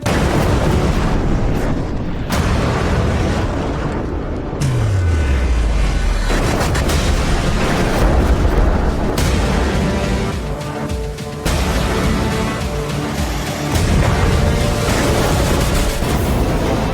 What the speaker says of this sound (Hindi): मिसाइलें गिर रही हैं, धमाके हो रहे हैं, शहर के शहर दहल रहे हैं।